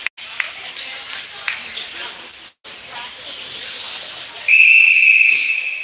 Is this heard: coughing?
no